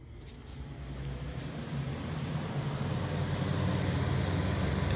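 A homemade garage shop air filtration fan starts up and spins, a steady broadband whoosh with low rumble that swells gradually and holds.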